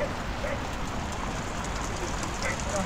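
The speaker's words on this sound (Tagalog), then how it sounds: "Lakas na ng ulan." Heavy rain on a mountain campsite in La Trinidad, a steady dense hiss of rainfall at moderate level throughout, with occasional faint drop ticks and no one speaking.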